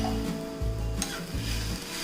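Chopped onions and tomatoes sizzling in a hot pan while being stirred, a steady close frying hiss with rhythmic scraping strokes of the spoon.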